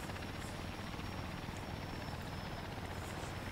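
A Skytrain aircraft flies inbound from the west, sounding like a steady rotor-like drone with a pulsing low thrum that continues evenly throughout without voices.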